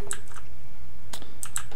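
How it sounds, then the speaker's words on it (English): Quick, close computer keyboard clicks in two short bursts separated by a brief pause, crisp and fairly loud, while playing Left 4 Dead. "You can hear my keyboard clicks."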